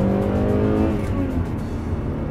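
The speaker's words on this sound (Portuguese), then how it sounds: "Nota-se o VTEC de uma maneira que eu acho que eu nunca tinha notado nenhum outro Honda" A Honda Prelude 2.2 VTEC engine revs hard and continuously, a loud close-up mechanical drone whose pitch climbs and then holds steady without a break.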